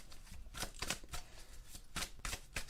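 A deck of tarot cards is shuffled by hand in several quick riffling bursts, close and crisp, with short pauses between them.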